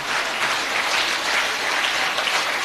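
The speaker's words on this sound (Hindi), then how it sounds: "भाई साहब आप ताली क्यों नहीं बजा रहे?" Audience applause at a Hindi comic poetry gathering, an even, sustained sheet of many hands clapping at a moderate level throughout, with no speech over it.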